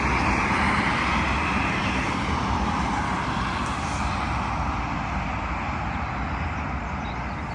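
An airliner from Belfast roars in on landing at London Heathrow runway 27L, a loud, broad, sustained jet rumble that fades slightly toward the end.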